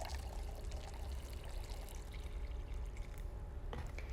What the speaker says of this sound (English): if I pour water into this one